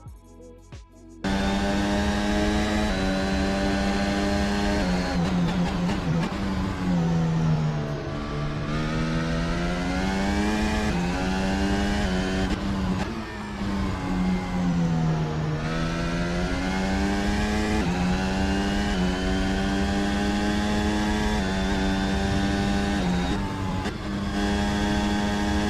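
A Formula 1 car runs a hot lap through Sector 3 of the Barcelona circuit, its high-pitched engine screaming steadily and rising and dipping in pitch through gear changes and corners, loud and continuous after a brief quiet start.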